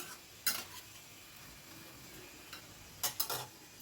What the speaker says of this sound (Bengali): আবারও সব কিছু ভালো করে মিশিয়ে নিলাম।